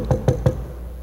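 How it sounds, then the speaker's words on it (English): Three quick, evenly spaced knocks on a door, close and fairly loud, then a brief quiet tail with no voices. "when we modern folk hear the knock at the door"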